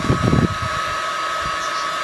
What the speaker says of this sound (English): So then I take a heat gun, like so, and just playing that gently over the surface